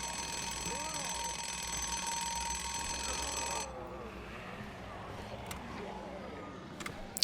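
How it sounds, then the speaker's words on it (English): A wind-up alarm clock in the State of Decay video game rings with a loud, steady metallic jangle for a few seconds, then cuts off, leaving quieter game sounds and someone talking over it. "with that wind-up alarm clock."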